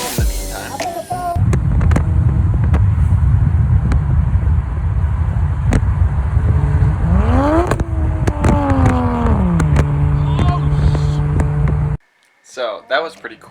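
Toyota Supra widebody with a 1JZ engine drives by, a loud rumbling exhaust rising and falling through revs with gear-change pitch sweeps and wind buffeting, then cutting off abruptly near the end.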